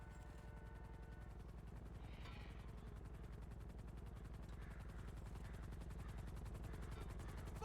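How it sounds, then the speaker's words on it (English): A helicopter's rapid rotor chop pulses steadily throughout in a video game, faint and distant-sounding, with a constant mechanical drone and no talk. "See, there's another helicopter coming in."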